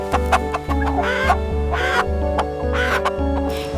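Chickens in a village coop give short, close clucks in uneven bursts over a sustained musical backdrop.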